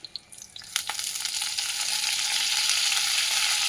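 Mint, curry and coriander leaves hit hot oil for green chutney, a few sharp crackles and pops followed by a loud, steady hissing sizzle that swells and holds close up.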